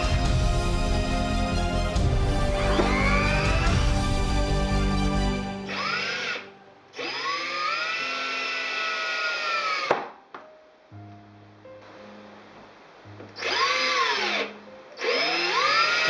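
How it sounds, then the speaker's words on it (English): A small high-pitched Dremel rotary tool whines in several separate bursts while drilling pilot holes in wood, speeding up and winding down between passes, close and fairly loud with no talking. "with a Dremel tool I drill a pilot holes and screw in some screws"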